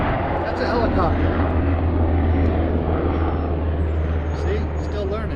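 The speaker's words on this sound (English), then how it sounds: "That's a helicopter." Helicopter flying overhead at a roadside stop beside a Kawasaki W800 cafe motorcycle, a loud, steady droning rotor and engine roar that fills the whole stretch without fading.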